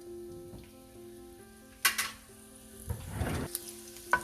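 Garlic sautés on high flame in a pan for Manchurian fried rice, a soft sizzle punctuated by loud stirring scrapes and clanks of a utensil against the pan, close and without talk.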